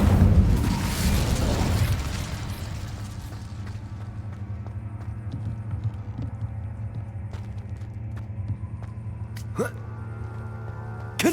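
A fiery burst from the Incendio spell in Hogwarts Legacy flares loudly in the opening two seconds, then settles into a steady low rumble with scattered small crackles and a sharp flick near the end.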